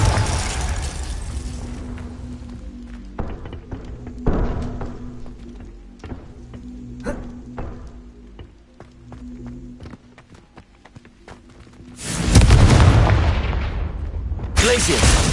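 A Confringo blasting spell in the Hogwarts Legacy video game lands as booming impacts among combat hits and footsteps, with a loud explosive burst near the end and voices calling out spells.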